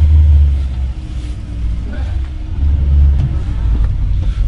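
A barn-find VW Polo driving with a freshly fitted fuel tank and carburetor, a loud steady low engine rumble with rising acceleration, heard from inside the car with voices talking over it.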